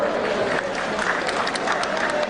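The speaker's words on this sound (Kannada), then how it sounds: "ಪ್ರಿಯ ಬಂಧುಗಳೇ, ಬರಲಿ ಈ ಎಲ್ಲ ಸಾಧಕರಿಗೆ ಮತ್ತೊಂದು ಸುತ್ತಿನ ಚಪ್ಪಾಳೆಯ ಗೌರವ." A seated audience claps for award winners at a state Rajyotsava honours ceremony, a dense, steady round of applause holding at even loudness through the whole moment.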